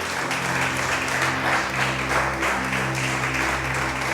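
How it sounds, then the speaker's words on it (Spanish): A church congregation claps for several seconds, a dense, steady burst of applause filling the room, loud and sustained without talk over it. "Dale ese aplauso a Jesús"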